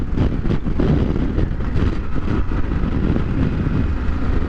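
A 2023 Harley-Davidson Pan America Special, a 150-horsepower motorcycle, is ridden on the road. Its engine drones as a steady, dense rumble that blends with buffeting wind noise, close and loud throughout.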